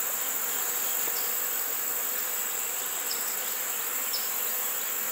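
Honey bees buzz at a beehive in a small colony with no sign of a laying queen, forming a dense, steady hum that carries on unbroken and close by, with no voices.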